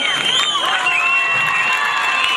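A crowd at a festival cheers, whoops and applauds for a dancer named Cemal, with many shouting voices, some high-pitched, layered over steady clapping at close range for a couple of seconds.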